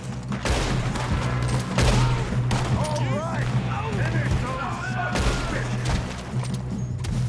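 Red Dead Redemption 2 gunfire cracks out in scattered close shots and bursts among rumbling impacts, mixed with shouting voices and talk throughout.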